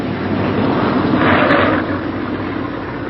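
B-17 Flying Fortress bomber coming in for a rough landing, heard as a loud, steady roar of propeller engines that swells briefly in the middle and then settles, with no talk.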